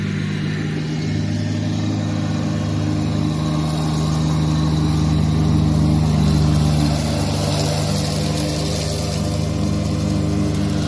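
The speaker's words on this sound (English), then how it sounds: "When he's all done mowing this area." A lawn mower engine runs steadily throughout while mowing a garden area near a chicken coop, a continuous mid-pitched drone that swells slightly in the middle, close and fairly loud with no talking.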